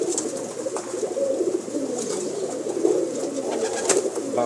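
Pigeons kept by a fancier coo in soft, repeated throaty calls, fairly close, over a steady background murmur of birds.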